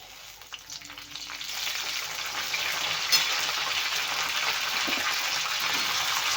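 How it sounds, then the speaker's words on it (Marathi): Curry leaves hit hot oil for a carrot, beetroot and green chilli chutney, and the oil breaks into a bright, steady sizzle that builds within the first seconds and keeps crackling close by. "नंतर घालूया आपण कढीपत्ता"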